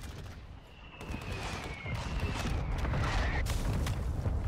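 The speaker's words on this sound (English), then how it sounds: "Mortar strike inbound now." Mortar strike explosions in a video game: a dense, steady barrage of heavy booms mixed with rapid gunfire that builds and stays loud throughout.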